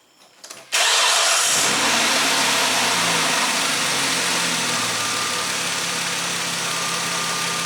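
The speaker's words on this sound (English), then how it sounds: "So I'm going to start the engine" A car engine cranks and catches after a short quiet moment, then settles into a steady, loud idle that continues close by without pause.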